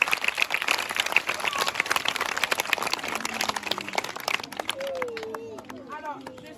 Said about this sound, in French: On va s'applaudir nous-mêmes.